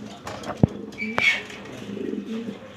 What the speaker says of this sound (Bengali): ডন লিও লাইনের কবুতর,